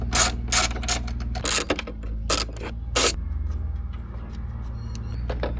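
Close, loud ratchet clicking comes in several quick bursts as 10 mm bolts are backed out of a Mazda MX5 NC shifter, over a constant low hum, the clicking fading toward the end.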